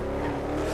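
A V8 supercar in GTA 5 drives around Monaco, its engine droning loud and close in a steady, rumbling note with no voices over it.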